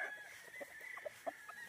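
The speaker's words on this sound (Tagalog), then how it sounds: "Manok. Chicken!" Chickens on a farm in Angayan Sur, Balungao, Pangasinan give a few soft, scattered clucks over a quiet outdoor background, with no voices.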